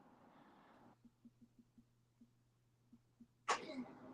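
A single sharp sneeze near the end, following a faint voice and a few soft ticking taps in a quiet room.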